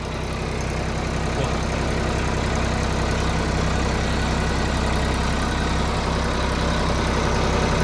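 A tractor engine drives a tiller in a field, a loud, steady low rumble with constant throbbing that holds unchanged throughout and has no talk over it.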